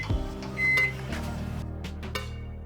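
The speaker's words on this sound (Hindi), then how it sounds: "पूरे 2 से 3 मिनट माइक्रोवेव को ऑन रखा" A microwave oven runs with a JioPhone inside, giving a steady low hum with a brief beep-like tone and a few soft clicks and bumps near the start, fairly quiet and with no voices.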